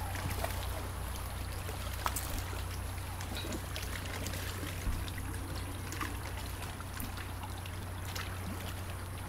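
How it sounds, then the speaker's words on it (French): Steady water lapping and splashing against stones close by, waves from a passing boat's wake, a continuous watery wash with a low constant hum underneath and no voices. "je vous montre les vagues"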